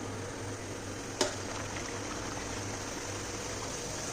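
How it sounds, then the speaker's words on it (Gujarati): Dal pakwan discs deep-frying in hot oil in a wok, a steady soft sizzling hiss with one brief clink near the start, no voices. "બંને સાઈડથી ગોલ્ડન બ્રાઉન કલર થાય ત્યાં સુધી આપણે એને ફ્રાય થવા દેવાનું છે"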